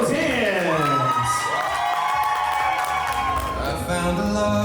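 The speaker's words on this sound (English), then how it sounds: "big round of applause out there for your beautiful bride and your handsome groom, Giovana and Robert" Wedding guests whoop and cheer for the bride and groom in a lively crowd, with drawn-out rising and falling shouts over a steady background roar and light clapping, all fairly loud.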